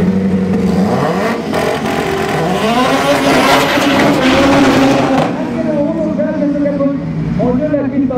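Race cars, a Mitsubishi Lancer EVO VIII and a VW Lupo Turbo, roar past at a racing event, loud rising and falling engine revs with brief tyre noise, while an announcer talks over the sound.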